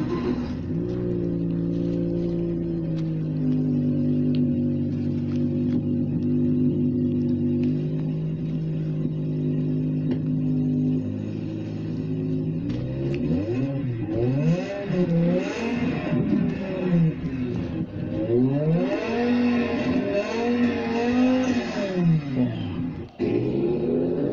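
A BMW M5 engine plays through an Alexa smart speaker, first idling in a steady low rumble, then revving repeatedly in rising and falling sweeps, loud and close, before cutting off abruptly.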